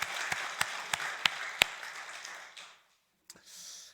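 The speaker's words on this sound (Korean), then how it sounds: "박수 한번 합시다." A few scattered, sharp hand claps from a church congregation ring out in a roomy space, slowing and thinning before fading into quiet.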